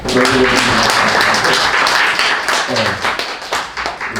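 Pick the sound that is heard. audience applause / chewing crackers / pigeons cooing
audience applause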